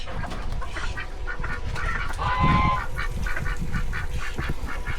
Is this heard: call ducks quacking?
yes